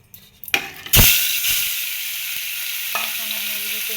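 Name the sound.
rohu fish frying in hot oil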